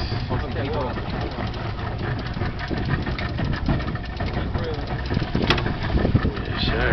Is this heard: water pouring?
no